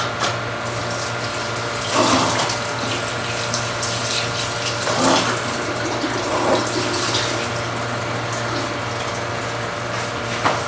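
Tap water runs steadily while cooking ingredients for a Filipino chicken dish with shrimp paste are washed, giving a loud, close, continuous splashing rush with a few heavier surges as food is moved under the stream.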